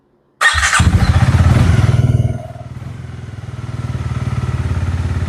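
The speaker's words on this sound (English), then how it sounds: "No clutch. Start her up." A 2026 Honda Rebel 300 with e-clutch starts up: an abrupt loud crank catches into a strong, steady rumbling idle that dips briefly and then settles into an even, throbbing beat, close by with no talk.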